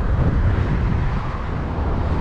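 Strong Meltemi wind blows across a Mykonos beach in the afternoon, a steady dense roar buffeting the microphone with a low rumble throughout, no speech.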